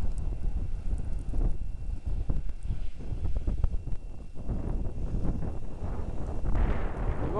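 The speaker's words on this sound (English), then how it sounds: "it's still snowing, and it's windy and cold" Cold, blustery wind buffets the microphone on a snowy late-November morning at Lions Park in Kincardine, a steady rushing roar with gusts and no voices.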